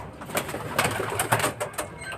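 Soft, repeated pigeon coos with some rustling around them, fairly close and moderately quiet, with no one speaking.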